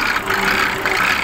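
Mercedes 250 turbo diesel engine idling roughly nearby, a steady low diesel clatter with a droning hum that wavers slightly in level.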